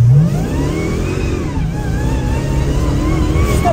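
A 1000 hp dragster engine revs hard in the street, loud and close, its rising and falling roar carrying steady harmonics throughout with a sharp blip at the start.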